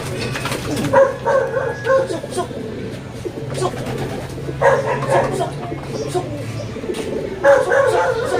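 A racing pigeon coos in soft repeated rounds near the recorder outdoors, mixed with other bird calls and a dog's bark, while someone talks over it.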